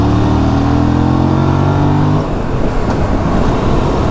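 Aprilia sports motorcycle engine revs hard, its loud tone climbing steadily for about two seconds, then cutting off abruptly into a lower, rougher rumble that continues to the end.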